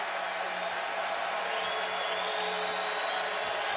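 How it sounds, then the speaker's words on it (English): Basketball arena crowd at a Texas at Baylor college game cheering in a steady, dense roar that holds loud and unbroken throughout, with no clear talk over it. "Crowd alive here."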